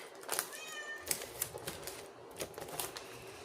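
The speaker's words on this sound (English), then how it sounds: "I think my cat is yelling at me to give her some food" A house cat meows repeatedly for food, several short insistent calls close by, with light tapping and rustling of paper around it.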